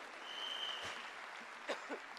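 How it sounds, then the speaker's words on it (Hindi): Faint, distant applause from an audience at a celebration gathering in a hall, a soft steady patter of clapping with a couple of brief knocks near the end. "आप ताली बजा सकते हैं उन सब डायमंड्स एंड अबव की जो पूरे वर्ल्ड में BWW की सेवा कर रहे हैं"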